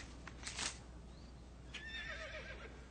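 A horse whinnies with a rising, wavering call, heard once briefly early and again more fully toward the end, over steady background noise.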